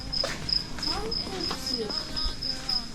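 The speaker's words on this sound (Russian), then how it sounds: "Какие-то кузнечики стрекочут." Grasshoppers chirp at night in a steady, high, pulsing trill that repeats throughout, while people talk nearby in the foreground.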